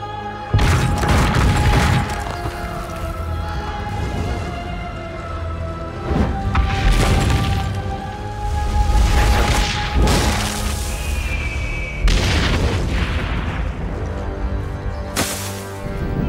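A tower blown up in Assassin's Creed Brotherhood, heard as a run of loud booming blasts and crumbling crashes that rise and fall in repeated heavy waves over a dense rumbling background.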